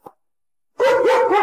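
A dog gives a single loud, close bark after a brief tick and a moment of silence.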